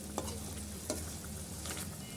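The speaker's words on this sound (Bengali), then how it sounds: "আমি এই মাগুর মাছটা আমি কষাইয়া রান্না করব।" Magur catfish stir-fried in a pan, a faint steady sizzle broken by two or three quick scraping stirs, quiet and close with no talking.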